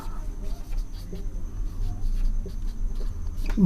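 Marker or chalk scratching across a board during a Hindi maths lesson, with short strokes and pauses, fairly close, while someone speaks over it.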